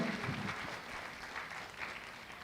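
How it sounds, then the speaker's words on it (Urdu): An audience at a lecture gathering applauds to welcome the city's mayor. The dense, even clapping holds steady and moderately loud throughout, with no talk over it. "تالیوں کے ساتھ سواگت کی جائے."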